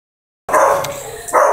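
Dog barking at an animal shelter in Wrocław, a few loud, close barks in quick succession that begin abruptly after a short silence.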